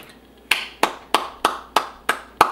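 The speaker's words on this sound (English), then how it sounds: "let's clap it up for Laura." A single person claps hands in a slow, even rhythm, seven sharp, close claps spaced about a third of a second apart with quiet gaps between them and no talk.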